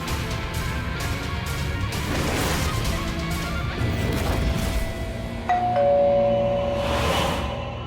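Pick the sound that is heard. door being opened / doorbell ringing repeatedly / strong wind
doorbell ringing repeatedly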